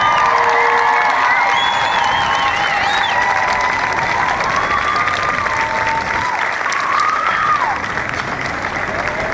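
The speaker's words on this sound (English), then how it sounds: "can we just give each other a round of applause real quick?" A large crowd at a Boulder march against hate breaks into sustained loud applause, dense clapping mixed with cheers and whoops that carries on evenly from start to finish.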